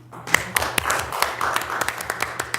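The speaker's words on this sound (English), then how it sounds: "How about a round of applause for John?" Applause at a school board meeting honoring a retiring board member: a small group claps in sparse, uneven bursts at close range, with a faint murmur of voices underneath.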